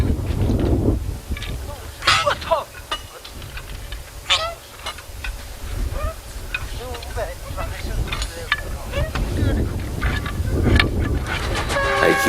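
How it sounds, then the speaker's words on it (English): A Chinese QJ class steam locomotive rolls past a level crossing, its train rumbling steadily with clanks and rhythmic wheel ticks, whistle-like tones rising above, while someone talks over parts of it. "AQJ passes the crossing east of Daban"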